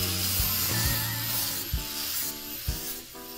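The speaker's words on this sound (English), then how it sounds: "use that same sanding wheel in order to add some additional texture to each area of the fins" A sanding wheel grinds against a hard composite board, texturing cut fish fins, with a steady rasping hiss broken by a few short thumps as the tool shifts.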